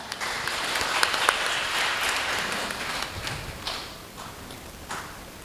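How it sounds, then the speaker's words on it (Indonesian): Audience applause at a BKKBN East Java dialogue event, a dense, fairly steady wash of clapping that fades toward the end, with scattered sharper claps. "Berikan tepuk tangan buat kita semua."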